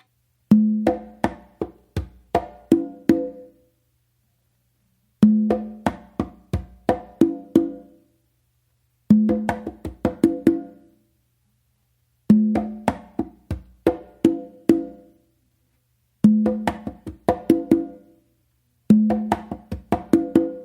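Conga playing a tumbao, crisp open tones and sharp slaps in a repeating phrase, played six times with clean silent gaps between, close and alone.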